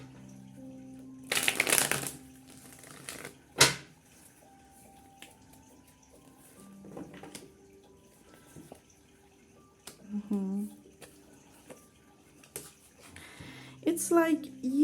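Tarot cards are shuffled in quick riffling bursts, close and crisp, followed by a sharp snap and scattered card sounds, while someone talks intermittently between them.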